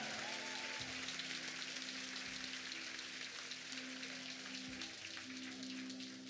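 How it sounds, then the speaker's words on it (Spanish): A congregation at an evangelical church service claps, producing dense, sustained applause like a patter of rain that holds evenly throughout, fairly distant and soft, with no voices over it. "pero tienes que aplaudirle."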